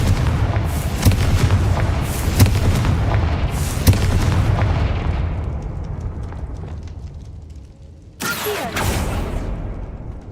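A Confringo blasting spell goes off in the Hogwarts Legacy video game, giving loud, rolling explosive booms with sharp cracks over a constant rumble, a brief drop in level, then another blast bursting in near the end.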